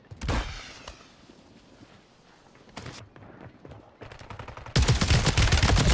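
Gunfire in the video game Warzone: scattered single shots and short bursts, then a dense, loud stretch of rapid automatic fire at the end.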